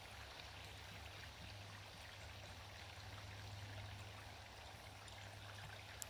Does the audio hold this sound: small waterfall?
yes